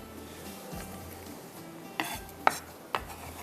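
Onions browning in oil in a pot as a spoon stirs them, a quiet continuous sizzle broken by three sharp metallic clinks of the spoon against the pot.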